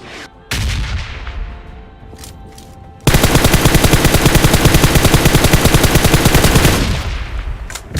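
Gunfire from the FAU-G video game: a couple of loud shots, then a long, rapid, evenly spaced automatic burst lasting several seconds that ends with a fading tail.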